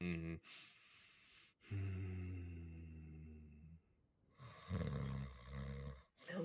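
A character in GTA 5 roleplay snores heavily, with long, loud, rumbling inhales separated by brief pauses, close and prominent, with a voice that seems to be imitating the snoring.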